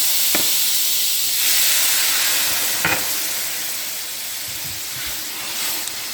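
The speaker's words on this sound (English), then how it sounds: "Let's deglaze the pan with the wine first." White wine poured into a hot pan after frying shrimp with garlic and chili, a loud steady sizzle and steamy hiss with occasional scraping taps from a utensil, no talking.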